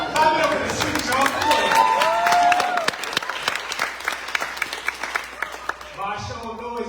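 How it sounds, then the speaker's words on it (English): Lively clapping and cheering from a crowd at a poetry book launch event, dense and sustained, with whoops and a voice over it before it thins out, then talk resumes. "Clap it up in the suit, y'all."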